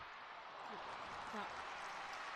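Football crowd roaring continuously at a Newcastle United Women versus Portsmouth Women match, a dense, steady wash of cheering and noise from the stands with no single voice standing out.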